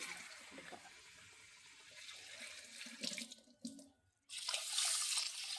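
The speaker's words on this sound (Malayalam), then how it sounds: "വെള്ളം ഒഴിച്ചിട്ട് നമുക്കൊന്ന് കഴുകി" Water splashes and runs steadily into a container of ragi grains being washed, pausing briefly before gushing again loudly at the end.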